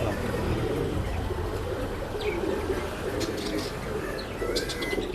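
Pigeons coo continuously in a Bangalore pet shop, a steady low murmur of many birds with occasional higher chirps over a busy room, while people talk in the background throughout.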